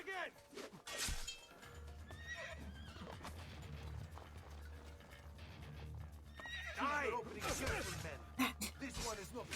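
A horse neighs and whinnies in Assassin's Creed 2, with clip-clopping hooves and game effects around it; a later whinny rises loud near the end, some voices underneath.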